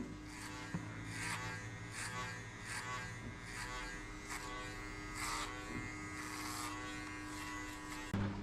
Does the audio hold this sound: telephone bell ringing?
no